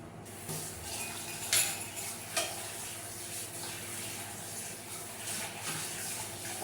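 Tomatoes being washed in water, with splashing and sloshing that runs steady and moderately loud at close range, broken by a few sharper clinks, and no talking.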